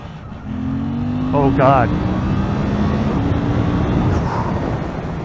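A Suzuki GSX-8R motorcycle engine rises in pitch under throttle, a steady droning hum that builds and holds, heard close from the rider's position with wind noise, while a brief voice speaks partway through.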